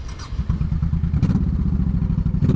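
A 2004 Honda Sabre 1100 motorcycle cranks briefly, then fires and settles into a loud, close, throbbing idle with a fast, lumpy pulse, running alone with the stock baffles in.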